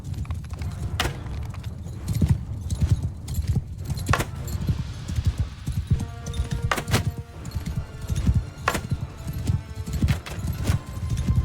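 Many horses' hooves clatter in a rapid, continuous clip-clop, with occasional sharp metallic clanks and a faint whinny mixed in, in the video game Mount & Blade 2: Bannerlord.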